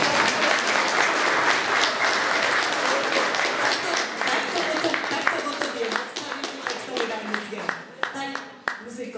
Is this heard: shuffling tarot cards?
no